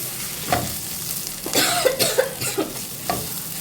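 Chili powder sautés in a bachelor-style chicken curry. A nearby sizzle is punctuated by several quick scraping stirs of the spoon through the pan.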